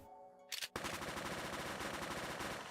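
An Uzi submachine gun in the video game Craftopia fires a fast, dense burst of rapid shots that runs steadily to the end, after a brief quieter stretch and a short sharp noise at the start.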